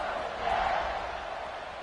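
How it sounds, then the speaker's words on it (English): Stadium crowd noise in a college football video game featuring TCU, a steady, loud buzz of many voices just after a touchdown, sustained throughout with a slight swell midway. "this crowd is buzzing after that last score"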